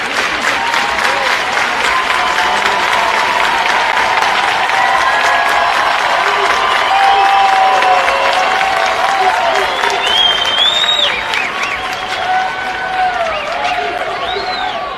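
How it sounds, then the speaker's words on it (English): A packed crowd at a Union versus West Florida basketball game roars, cheers and applauds loudly and continuously, a dense wall of noise with scattered high whistles and shouts that swells and holds throughout. "Let's listen to this crowd"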